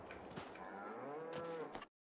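Cows low in the farming game Farming Simulator 22, a long drawn-out moo with a falling tone that stops abruptly, clear and alone against a faint background.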